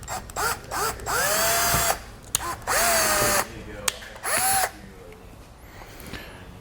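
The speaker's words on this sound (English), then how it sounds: "I'm going to get some holes drilled." A power drill bores holes into an RV camper's exterior wall in three sustained bursts, each whining up to speed and stopping, close and loud, with short pauses and a faint clatter between.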